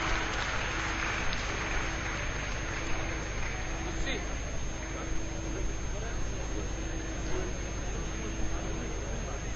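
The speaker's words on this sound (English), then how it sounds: "A big round of applause." Audience applause after a souvenir release at a formal function, a steady wash of clapping that holds at an even level throughout under a faint constant hum, with no distinct individual claps standing out.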